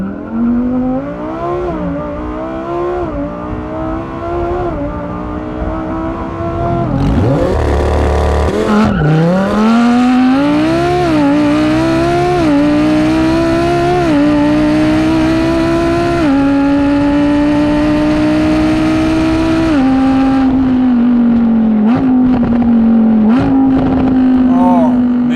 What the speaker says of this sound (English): Actually, a little more wheel spin than I expected. Wow, but I mean, it just jumps and launches.